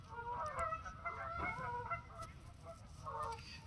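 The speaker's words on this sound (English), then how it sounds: "There's so many of them geese around." Geese at Hoover Lake honking in a loose, overlapping series of calls, several birds at moderate distance with no voices.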